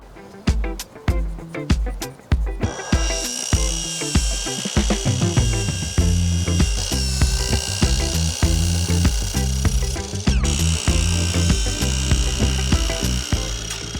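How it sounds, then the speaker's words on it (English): A circular saw cuts through wood along a carpenter square used as a fence, the blade whining loudly and steadily for most of the stretch after a few sharp knocks and short bursts at the start. "I am going to use my carpenter square with my circular saw"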